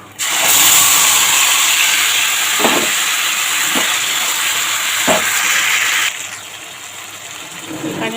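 Ground spice paste hits hot oil with a sudden loud hiss that sizzles steadily for several seconds, a few faint utensil taps beneath, before the sizzle drops to a quieter simmer.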